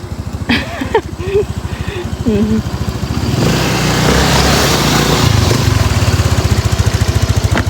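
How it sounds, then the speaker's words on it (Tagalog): A motorcycle engine approaches and passes close by, its rough rhythmic putter swelling and staying loud, with a person talking over the start. "May motor"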